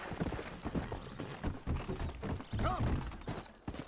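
Horse hooves clip-clop in the video game Red Dead Redemption, a quiet uneven run of hoofbeats with faint creaks and mechanical clicks, mixed with low game background sound.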